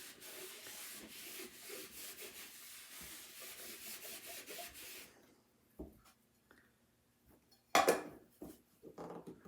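Light rubbing of wax onto a chalk couture surface, a soft repeated scratchy brushing for several seconds that then stops, followed by a few quiet taps and a brief louder scrape.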